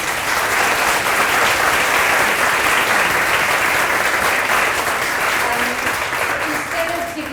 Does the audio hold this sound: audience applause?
yes